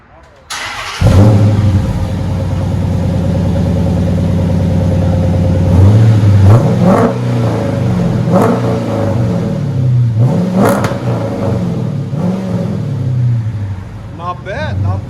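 Dodge Charger R/T with a 5.7L HEMI V8 and Flowmaster exhaust, heard from inside the cabin: the engine starts and settles into a loud, steady rumble, with several sharp revs climbing and falling across the clip.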